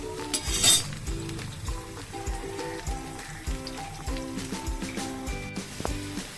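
Soybean chunks fry for chilli soya bean while a spatula stirs them, giving rapid metallic clinks and scrapes against the pan over a faint sizzle.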